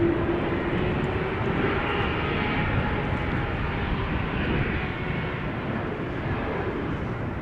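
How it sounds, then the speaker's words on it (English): A business jet takes off from a runway at Amsterdam Schiphol Airport, producing a broad, steady roar at moderate distance that slowly fades slightly over several seconds. "Meanwhile, just now, BizJet took off from runway 22."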